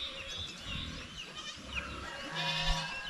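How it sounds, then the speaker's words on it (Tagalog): A pet goat on a farm bleats softly, with a couple of moderate wavering calls against faint outdoor background and no speech. "ibinta natin yung kambing na yan"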